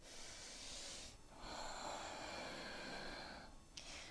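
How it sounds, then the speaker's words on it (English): Deep, focused breaths drawn in and pushed out during a vinyasa yoga class, a close, airy hiss swelling in a long exhale that fades into a pause before the next breath begins, with no talking. "Begin to find that animal breath, that deep, focused breath."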